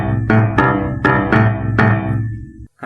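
Piano playing a boogie-woogie left-hand pattern at full tempo from a piano tutorial, steady repeated strikes of paired notes with a long-short swing feel, bright and close, alone with no talk.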